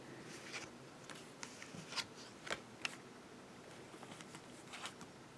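Tarot cards are shuffled and drawn by hand: soft, scattered papery flicks and snaps at irregular intervals, close and fairly quiet, with no voices.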